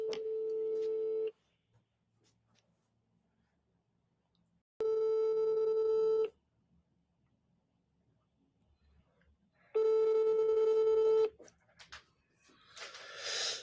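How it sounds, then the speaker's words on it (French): Telephone ring tone on a call: three steady, evenly pitched electronic tones, each about a second and a half long, separated by long silent gaps, with faint background noise at the end. "décroche ton téléphone, s'il te plaît."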